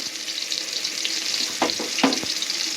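Chopped garlic and onion hit hot oil for a tempering, giving a loud, close sizzle and frying crackle with a couple of quick stirring scrapes, and no voices.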